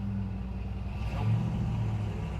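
A 1971 Chevrolet K-10 Cheyenne 4x4 pickup pulls away in second gear. The engine drones steadily, then swells into a stronger revving surge partway through and settles back to a strained hum.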